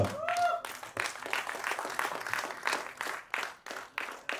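An audience at a film trailer launch event applauds to welcome actor Surendra Pal Singh, with a brief tone at the start and then a steady wash of clapping that breaks into a few distinct bursts near the end.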